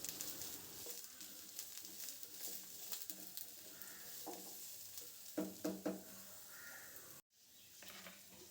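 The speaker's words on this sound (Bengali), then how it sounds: "এবার একটু ভালো করে সব কিছু মিশিয়ে নেব।" Vegetable curry with eggplant, turmeric and salt stirred in a pan, a soft steady sizzle with scraping strokes and a few louder clinks near the end, then a brief drop before the sizzle resumes.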